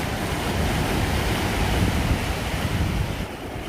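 Ocean surf breaks and washes along a chilly beach in a continuous broad roar, mixed with gusting wind buffeting the microphone, loud and steady with a slight easing at the end.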